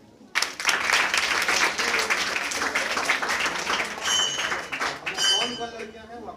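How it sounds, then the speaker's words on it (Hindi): Audience at a school prize distribution ceremony applauding the girls, a sudden burst of dense, loud clapping from many hands that holds for several seconds and then tails off, with a few voices calling out near the end. "तो लड़कियों के लिए ताली होनी चाहिए।"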